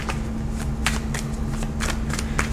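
A deck of tarot cards is shuffled by hand, close and crisp, as repeated quick riffles and flicks over a steady low room hum.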